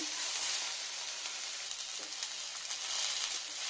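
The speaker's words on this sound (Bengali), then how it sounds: "রসুনটা দিয়ে নিলাম। আদা, এটা আদা থেতো, ফ্রাই ফ্রাই ফ্রাই সব ফ্রাই।" Garlic and crushed ginger fry in hot oil with a steady, hissing sizzle, close up and unbroken, with a few faint crackles.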